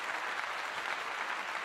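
A burst of applause at a college football pre-game event, many hands clapping steadily and fairly loudly for a brief moment.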